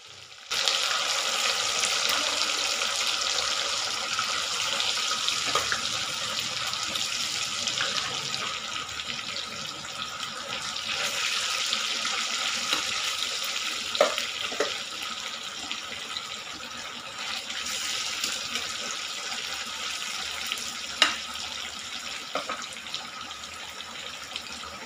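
Chicken frying with curry leaves in hot oil sizzles in a steady, continuous hiss, close and moderately loud, with faint pops and clinks from the pan along the way.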